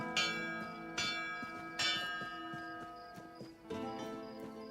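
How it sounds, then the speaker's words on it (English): Bell tolling in the fantasy video game Tainted Grail: Fall of Avalon, several ringing, resonant strikes about a second apart, each decaying under continuous game music with horse hooves clip-clopping faintly. "Why are you incessantly ringing the bell?"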